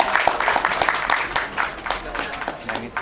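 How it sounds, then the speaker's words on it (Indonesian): Applause from the audience at a film press conference for Prilly, a scattered burst of clapping mixed with voices and chatter in the room. "Tepuk tangan dong buat Prilly ya semua."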